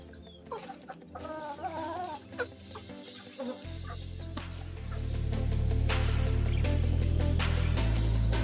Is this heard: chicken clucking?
yes